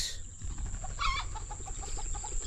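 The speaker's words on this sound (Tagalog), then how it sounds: "May manok na naman po." A chicken forages nearby, making a series of short, repeated clucks over steady outdoor background noise.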